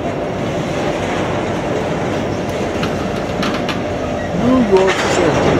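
A slow Norfolk Southern freight train rumbles steadily past in Columbus, Ohio, with a continuous low roar, a brief squeal rising near the end; voices murmur faintly underneath.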